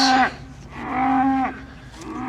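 Cattle being moved to fresh pasture: two loud, close moos follow each other, a short one, then a longer drawn-out call, and a third begins at the end, with no talk.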